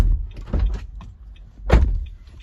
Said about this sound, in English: Open and close the driver's door.